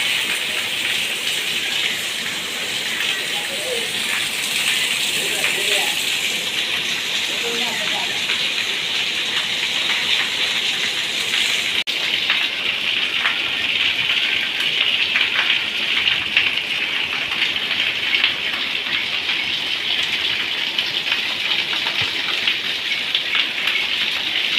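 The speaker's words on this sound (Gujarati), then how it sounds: "વરસાદ ફૂલ ચાલુ." Heavy rain pours down steadily in a dense, constant hiss that fills the whole stretch, with faint voices briefly heard early on beneath the downpour.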